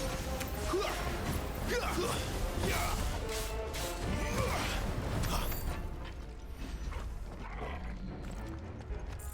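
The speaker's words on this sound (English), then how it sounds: "Up the elevator." In Final Fantasy XVI, an elevator moves with clanking, grinding mechanical noise and a few heavy knocks that run steadily and then ease off slightly toward the end.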